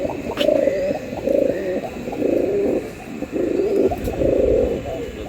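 Pigeons at a market, among them Gorra and Giribaz birds, coo close by in a run of five or six rhythmic, throaty phrases with short gaps between them.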